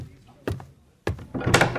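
An old door down a long corridor is opened, giving a short knock-like thunk followed by a scraping swing, with faint ambient noise around it and no talking.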